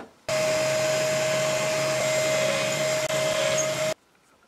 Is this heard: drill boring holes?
yes